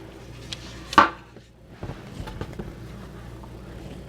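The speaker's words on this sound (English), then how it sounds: "Let me bring my pan over." A pan is set down on a kitchen counter while a mummy stromboli is prepared, giving one sharp clack, followed by a few softer knocks and handling sounds in a quiet room.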